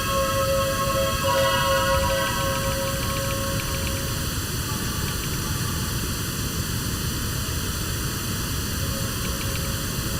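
Continuous pink noise played as a level reference while mixing a song, a dense, steady hiss with faint tonal lines from the music briefly sitting on top early on, then fading to the plain noise.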